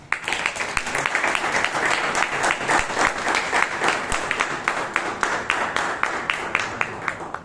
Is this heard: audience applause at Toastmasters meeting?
yes